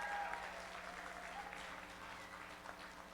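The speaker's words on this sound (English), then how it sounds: "Give a round of applause to all of our competitors." Faint applause, a soft continuous patter of clapping from a crowd heard at a distance.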